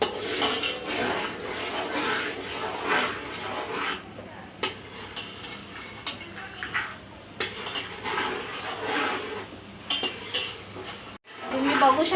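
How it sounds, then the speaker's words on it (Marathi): Peanuts frying in hot oil in a pan for poha chivda, a steady soft sizzle and crackle with scattered light pops and occasional scraping of a spoon against the pan. "आपले शेंगदाणे आता असे फुटायला लागलेले आहेत, तडतडायला लागलेले आहेत"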